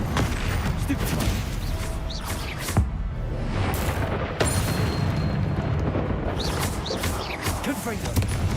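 Dense, continuous booms and crackling blasts from spell explosions in the video game Hogwarts Legacy, loud and layered during combat, with a voice talking over them.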